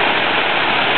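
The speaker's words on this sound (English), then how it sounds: "Here comes the second portion of the concrete coming down the chute." Wet concrete rushes steadily down a chute during a barn floor pour, a loud continuous broadband hiss like pouring water, close and unbroken throughout.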